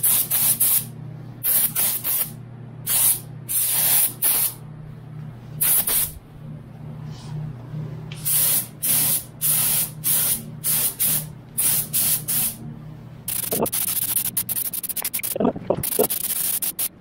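Aerosol primer sprayed in repeated short bursts onto black parts of a Subaru Impreza, each hiss lasting a second or so with brief gaps, close and loud over a low steady hum, with a few clatters near the end.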